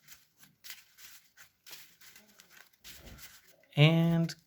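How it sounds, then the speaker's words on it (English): A deck of trading cards is shuffled in short soft riffling bursts under quiet talk, followed by a brief bright electronic click tone at the end. "Shuffly, shuffly, shuffle."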